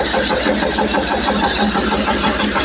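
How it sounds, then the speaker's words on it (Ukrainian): A Kentavr 200V walk-behind tractor runs with a potato digger attached, its small engine chugging loudly and steadily with a rapid, even knocking rhythm close by. "Дивіться, ось завівся трактор, копалочка трусить трусить."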